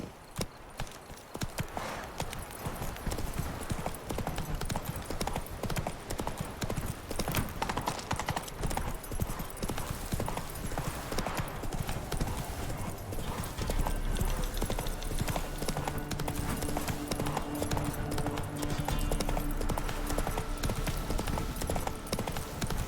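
Roach gallops through The Crookback Bog in The Witcher 3, a rapid, continuous drumming of hooves heard up close for the whole stretch, layered with game ambience and a faint whinny.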